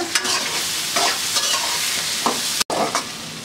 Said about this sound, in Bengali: ভালো করে সুন্দর করে ভেজে নিব পেঁয়াজটা।